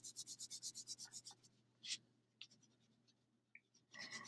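A marker or crayon colors flower petals on paper in a rapid, even run of scratchy back-and-forth strokes, followed by scattered single scribbles and a final burst of rubbing, close and fairly quiet with no talking.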